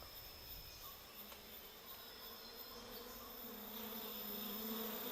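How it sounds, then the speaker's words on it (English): A steady, dense hum of many giant honey bees buzzing together, continuous and even throughout, rising slightly toward the end, with no voices. "These are the giant Asiatic bees, the biggest of all honeybees."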